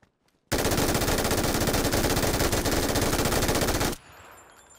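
An MG3 machine gun in PUBG fires one continuous rapid burst lasting about three and a half seconds, loud and close, then cuts off abruptly to quiet ambience.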